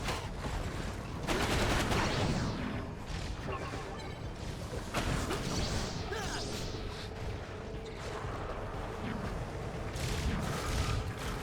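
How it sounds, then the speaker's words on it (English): Sustained automatic gunfire from an APC in a Spider-Man video game fires in dense, continuous bursts with crashing impacts and rumbling game noise, steady and fairly loud throughout. "What is that APC shooting at?"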